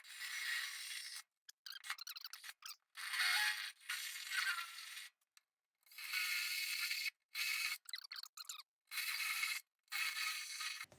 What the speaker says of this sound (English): I'm going to disconnect my sway bar real quick, rotate it out of the way